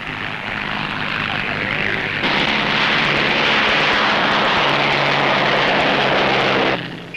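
Propeller racing aircraft taking off at the start of an air race, including a Comet and a KLM Douglas, the engines building to a loud, sustained roar that fades briefly near the end.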